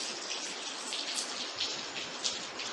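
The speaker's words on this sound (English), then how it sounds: "this rain was right down, boy, it's heavy over there" Heavy rain pours down nearby as a dense, steady hiss of drops hitting surfaces, loud and continuous with no voices.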